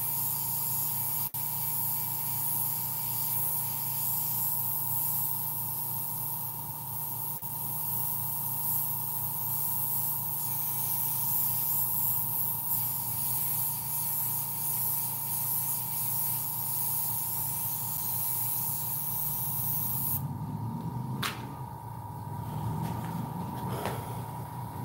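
An airbrush sprays alcohol ink through a stencil in a long, steady hiss with a constant compressor-like tone underneath, breaking off near the end into short handling clicks and bumps.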